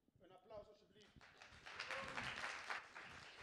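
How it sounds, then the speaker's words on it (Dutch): An audience applauds after a performer is introduced, clapping building from scattered hands to a fuller, steady patter over a few seconds, with voices talking near the start. "Een applaus alsjeblieft."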